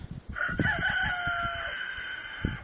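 Delaware hens cluck in short, low bursts while a rooster crows a long drawn-out call over them, close by.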